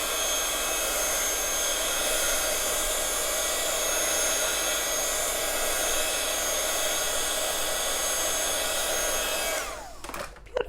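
A hair dryer blows steadily and close up for about ten seconds while drying ink or paint on a craft card during card-making with mats and layers, then switches off, leaving brief handling clicks.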